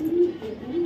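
Pigeons cooing in a brief, soft burst, a low steady murmur of coos close by with no other sound.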